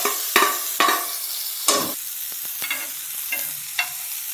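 Tomatoes sauté in butter in a pan, with a series of sharp spatula scrapes and stirring strokes over a soft background sizzle, close and clear.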